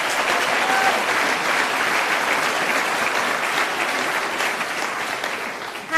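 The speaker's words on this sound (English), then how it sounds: "can we get a warm round of applause for Dr." Warm, steady audience applause at a town hall on adverse childhood experiences, a continuous crowd of clapping hands at moderate distance lasting about six seconds.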